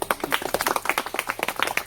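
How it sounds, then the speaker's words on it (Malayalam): A group claps for everyone at an urban sketchers meet in Thrissur, fairly close, quick uneven hand claps from a small crowd, lively and distinct. "എല്ലാവർക്കും ഒരു നല്ല കൈയടി."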